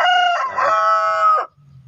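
A rooster crows loudly and close by near a village chicken coop, one full crow of about one and a half seconds that cuts off sharply into quiet, with a faint low sound after it.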